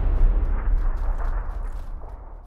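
A grenade goes off in PUBG with a deep, heavy boom up front, followed by rolling low rumble that slowly fades.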